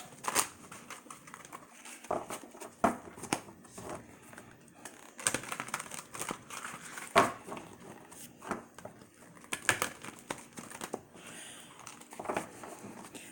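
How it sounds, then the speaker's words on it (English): Continuous crisp rustling and flicking of tarot cards being shuffled close by, irregular bursts of papery slaps with no talking. "Let's get shuffling."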